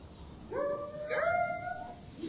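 A person imitates a dog howling, giving a single wavering, rising-and-falling howl about two seconds long over faint room noise at a kingdom court gathering.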